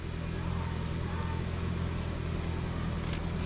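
A 2018 Toyota Camry SE's 2.5-liter 4-cylinder engine idles with a steady, even rumble, close and continuous, with no revving.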